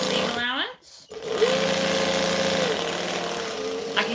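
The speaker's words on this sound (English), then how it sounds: "I like to put the waterproof canvas on top when I sew" A sewing machine stitches waterproof canvas with a steady mechanical hum and whir, sustained through most of the stretch beneath a voice that speaks throughout.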